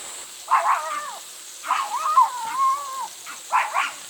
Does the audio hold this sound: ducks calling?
no